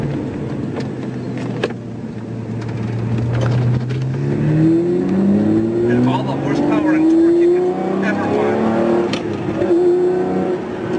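A Lamborghini Murcielago engine rises steadily in pitch as it revs and accelerates, loud and continuous from close by, with talk running under it.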